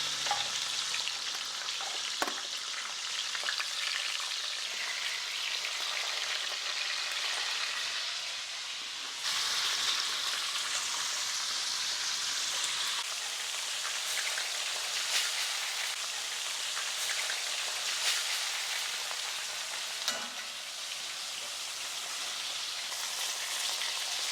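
Dry-aged short ribs sear in a pan of hot lard with a steady, close, loud sizzle and crackle throughout, occasional stirring clatter on top, and no talking.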